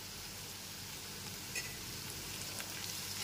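Onion, garlic and ginger paste fries in a pan with a steady, soft hiss while it is stirred, with a few faint scraping clicks. No voices.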